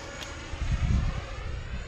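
A 64mm EDF model F-14 jet passes overhead, its ducted fan a faint, steady whine with a low rumbling swell in the middle, mixed with light wind noise.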